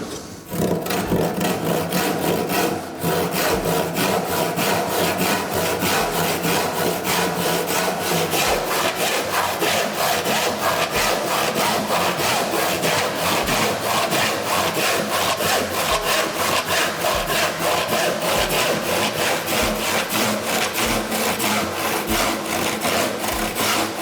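Hand saw working through a piece of wood after a knife-scored 45-degree line, steady rhythmic back-and-forth strokes running close and loud throughout.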